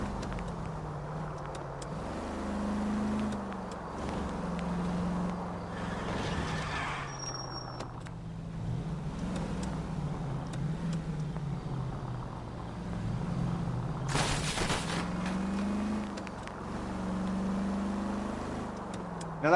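A stolen car being driven in the video game L.A. Noire, its engine humming and shifting pitch as it accelerates and eases off, with a couple of brief louder bursts of noise.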